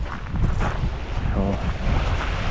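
Wind buffets the microphone with a steady low rumble as choppy waves slap and wash on the Dniester river near Stara Ushytsia, heard from a boat, with a voice briefly audible.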